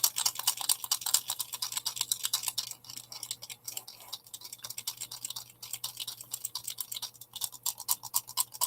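An oil or acrylic paint marker being shaken, its mixing balls rattling inside in a fast, continuous run of small clicks, faint and close with no talking.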